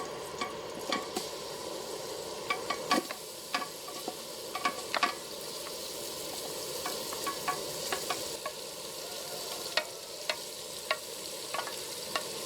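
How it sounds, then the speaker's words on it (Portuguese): Meat fries in a thick pot over a wood fire, a soft steady sizzle punctuated by frequent sharp crackles and stirring clicks, close and moderately quiet with no talking. "Então já vamos colocar a carne aqui dentro"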